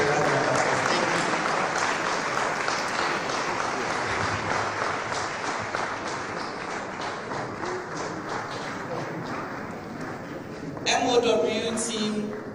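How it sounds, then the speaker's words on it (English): Audience applause fills a hall at the launch of Ghana's Memory of the World Register, a steady loud wash of clapping that runs almost the whole time, with a brief burst of speech or cheering near the end. "Please, shall you give them a round of applause?"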